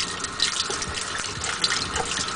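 Hot water runs steadily from a tap onto glass during glass etching, a constant close gushing splash with no talking.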